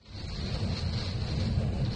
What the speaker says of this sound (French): Vous entendez le bruit du vent là et la pluie?